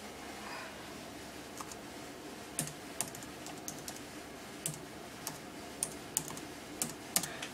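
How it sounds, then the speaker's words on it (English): Typing on a computer keyboard, a run of light clicks that are uneven, fairly close and soft, with a few sharper key strikes set against a steady hiss of room noise. "I'm sorry if you hear me typing."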